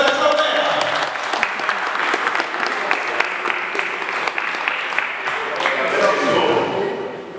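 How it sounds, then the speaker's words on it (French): A crowd at an international conference gives loud, dense, sustained applause for several seconds, with a voice audible over it. "sous vos applaudissements"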